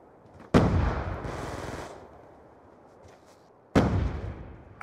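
Two heavy shotgun blasts in Black Ops 2 multiplayer, each a loud close boom with a long rumbling decay, spaced a few seconds apart.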